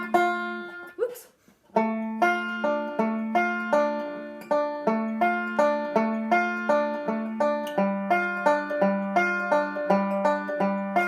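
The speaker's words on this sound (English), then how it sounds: "arpeggiate it using my kind of standard roll that I'm using, it's gonna sound like this." Banjo chords picked as a steady standard roll, bright plucked notes in a quick, even rolling pattern that runs on for several seconds after a brief fumbled start, close and alone.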